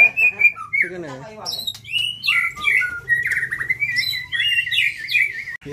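A white-rumped shama (murai batu) breeding bird sings close by in a rich, varied run of whistled phrases and chirps, with faint background noise and low murmurs.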